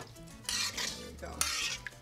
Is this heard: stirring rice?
yes